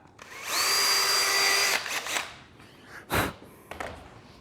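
A power drill with a drill bit whirs steadily into plastic for about a second, then stops, followed by a few short bursts and clunks.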